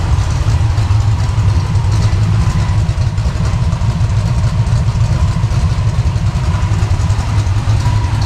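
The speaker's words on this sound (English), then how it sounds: "Got it idle down to around 800 or 750, 800 RPM. Doesn't sound too awful bad." A 305 small-block Chevy V8 idles on a test stand with mufflers fitted, a steady loud low rumble around 750–800 RPM that holds even and continuous throughout, with no voices over it.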